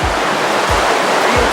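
A river rushes steadily at a hiking crossing on the Huemul Circuit near El Chaltén in Patagonia, Argentina: loud, close, continuous roaring water with a few soft low thumps.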